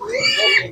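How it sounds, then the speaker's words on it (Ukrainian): A single short, high-pitched piglet squeal up close, lasting under a second. "Гарні поросятка такі досить"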